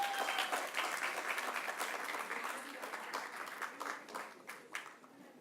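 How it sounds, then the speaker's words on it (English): Audience applause at an awards ceremony for children's radio, a broad sustained crowd of clapping that fills the hall and slowly thins toward the end, with a few sharper individual claps standing out. "Can we please have a huge round of applause?"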